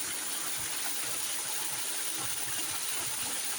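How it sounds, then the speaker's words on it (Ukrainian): Steady rushing water from the Velykyi Huk waterfall on the Vizhenka, a continuous broadband roar, even and unbroken throughout. "Декілька разів у нас спадається вода"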